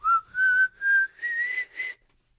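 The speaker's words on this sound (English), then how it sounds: "it goes to intro B and the whistle comes in." A whistled melody from the intro of a song, heard as several sustained notes that rise gradually in pitch. It is clear, close and unaccompanied, and fades out after about two seconds.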